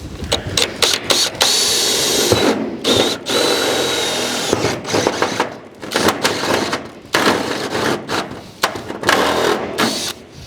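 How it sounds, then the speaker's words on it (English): A step drill whines loudly in repeated bursts, revving and cutting out with short pauses between runs, close by. "we're using a patented step drill"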